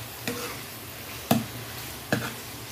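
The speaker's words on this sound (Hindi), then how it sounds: "देखिए फ्रेंड मसाले भून चुके हैं और ऑयल भी छोड़ दिया है मसाले ने।" Spices frying in oil for soya badi pulao, a soft steady sizzle broken by three brief scraping stirs of a spoon in the pan.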